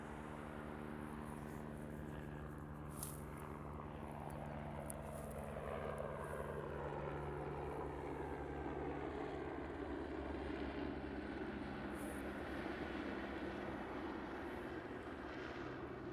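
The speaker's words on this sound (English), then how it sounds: "Hawaiian's coming in from Lihue on the island of Kauai" A Hawaiian Airlines airliner arriving in Honolulu from Lihue, Kauai: a steady, broad jet engine roar with a slowly shifting whine, continuous and fairly loud throughout, with no talking.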